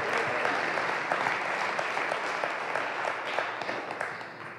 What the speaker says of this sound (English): Give the Lord Jesus a big hand clap of appreciation.